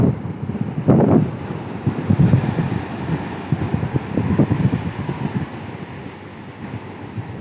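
Sea waves and gusting wind on Kakinada beach, with close, rumbling wind buffeting and irregular surges of surf rolling in, loud and continuous with no voices.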